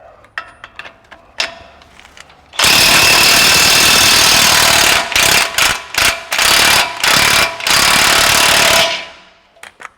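A coilover mount bolt on a 2025 Ford being loosened with a 27 millimeter socket on a power impact tool: loud, harsh hammering bursts in several long stretches, close up, after quieter clinks.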